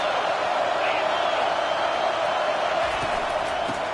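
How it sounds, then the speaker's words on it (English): A large football stadium crowd roars steadily as a game is played, a dense continuous wall of noise with no break. "This crowd trying to make life miserable for this offense."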